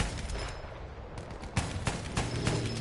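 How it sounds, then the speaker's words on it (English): Anti-aircraft gun firing in Battlefield 1, a rapid string of sharp, percussive blasts in quick bursts that grow denser and louder in the second half over a steady noisy backdrop. "I'm gonna use anti-air fire on that"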